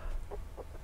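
Chickens in a backyard flock of a rooster and hens cluck softly in a brief run of three low, short clucks close by.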